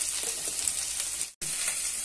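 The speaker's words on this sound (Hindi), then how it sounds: "इसलिए अभी मेरा भून रहा है मसाला" Masala fries in a pan for tomato chaat, giving a soft, even sizzle close by, broken once by a brief moment of silence, with no talking.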